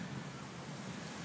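Sea waves wash steadily along the shore at East Coast, Singapore, a continuous broadband surf mixed with wind buffeting, with no distinct breaks over the short stretch.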